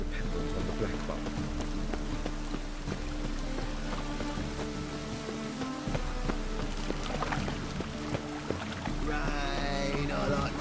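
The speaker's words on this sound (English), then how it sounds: "Rain, I like rain." Steady rain hiss and patter fills the scene in The Witcher 3: Wild Hunt, set in the city of Novigrad, alongside layered game music and effects, continuous and fairly loud throughout.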